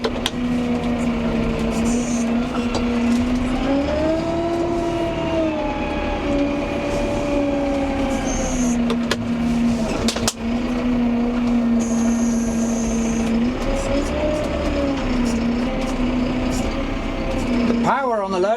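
A new Massey Ferguson 5M.125 tractor's engine runs close by with a steady, loud drone whose revs swell and settle several times, with a sharp knock midway and a short sound at the end.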